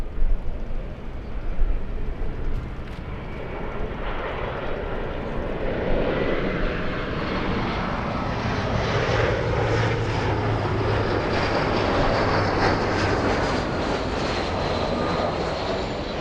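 A Southwest airliner departing LAX, a broad jet-engine roar that swells and holds steady for many seconds, distant but loud, with no talking.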